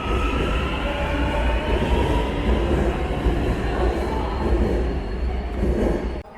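A Beijing subway metro train runs steadily with a dense, continuous rumble and faint rail whine, heard from inside or close by throughout with no talking.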